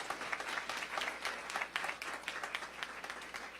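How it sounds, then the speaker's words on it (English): A small group claps for city commissioners on aging at a mayor's press briefing, with faint, thin, scattered hand claps that stay irregular and never build into a full ovation. "So our commissioners please give them a round of applause."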